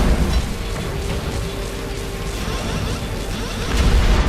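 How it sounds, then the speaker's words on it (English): An ion cannon firing in the space combat game Angels Fall First, a dense, sustained crackling roar with crashing impacts, loud and close throughout, ending in a low rumbling swell. "Ion cannon firing."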